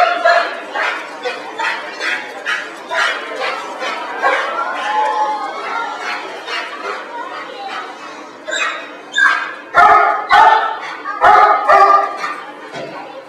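A police K9 dog barks at a school demonstration, giving a long run of sharp, loud, close barks with a few yips. A crowd chatters underneath throughout.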